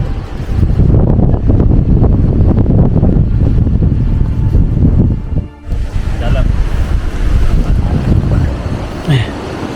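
Strong wind roars continuously across a foggy mountain trail in cold, drizzly weather, buffeting the microphone with loud, gusty rumble that briefly dips mid-clip before surging again.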